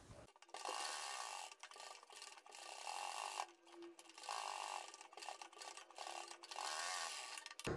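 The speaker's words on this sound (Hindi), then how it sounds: "अब आपको क्या करना है, दूसरी साइड पर किनारी की सिलाई लगा देनी है।" A sewing machine stitches the edge of a fabric neck strip in rapid, continuous bursts of mechanical whirring, pausing briefly between runs, close and clear with no talking.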